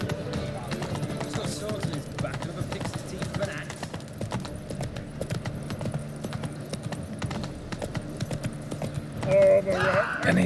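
Hooves of Roach, a horse in the video game The Witcher 3, clatter in a steady galloping rhythm throughout, with music and a voice running underneath and a louder swell near the end.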